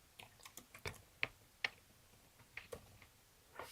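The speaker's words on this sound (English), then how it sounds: "let's type in Estes" Light, irregular taps on a computer keyboard, a quick run of faint clicks with a few sharper keystrokes, close but quiet.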